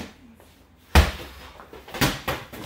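A slam ball hits a gym floor during a boot camp conditioning workout, landing as two loud, heavy thuds about a second apart, each with a short rumbling tail over a quiet room.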